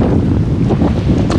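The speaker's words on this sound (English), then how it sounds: "At the end of the lake, just getting hammered by the wind" Strong wind hammers the end of a lake during a canoe trip, making a loud, constant buffeting roar across the microphone, mixed with the wash of choppy waves.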